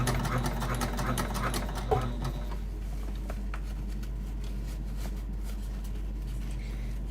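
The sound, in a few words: sewing machine top stitching a bag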